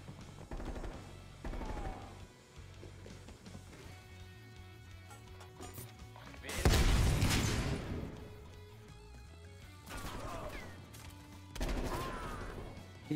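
Gunfire in a video game where ammo is running low: bursts of shots in several short clusters, with one loud, dense volley in the middle and sharp crashes between them.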